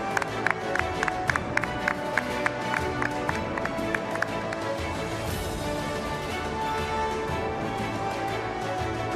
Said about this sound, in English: huge round of applause for Mr.